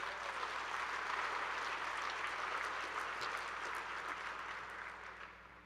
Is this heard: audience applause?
yes